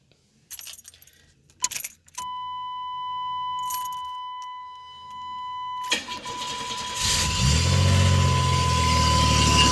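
Keys jangle in a 1989 Chevrolet Celebrity with a 2.8 V6, then a steady warning chime sounds. The engine cranks and catches into a loud, rough idle that continues close by.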